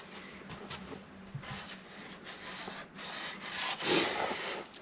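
Steady abrasive rubbing of sandpaper on an end grain wooden picture frame, a continuous close scratchy hiss that swells louder toward the end, with no voices.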